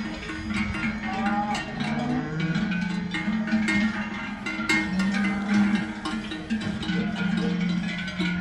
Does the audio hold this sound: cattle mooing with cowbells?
yes